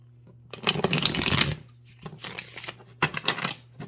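Several quick riffling bursts of playing cards being shuffled close up, followed by a couple of shorter shuffles and taps.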